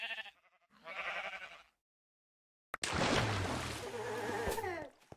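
Two short bleats from a sheep in the video game RealmForge, with a brief silence before a louder burst of noisy sound.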